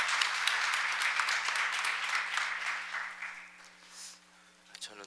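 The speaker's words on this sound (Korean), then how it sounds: "박수로 청해 주시죠" Audience applause at an international forum session, a dense burst of clapping that fades gradually over a few seconds, leaving a faint hum and brief scattered sounds at the end.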